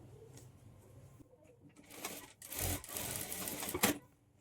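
A sewing machine stitches darts on a plain blouse. It runs in short, bursty rattling runs that start and stop, loud and close, with a quieter stretch of handling noise at the start.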